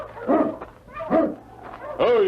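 A large sled dog in the snowy Yukon whines and yelps in a radio drama, giving three rising, tonal whimpering bursts that are close and fairly loud.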